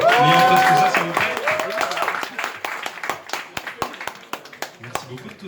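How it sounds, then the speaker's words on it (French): An audience at a French retro Japanese gaming event breaks into applause, starting under a held musical tone and then continuing as a crowd of claps that thins into scattered, distinct hand claps. "on peut lui refaire un tonnerre d'applaudissements pour avoir mis en place tout ça"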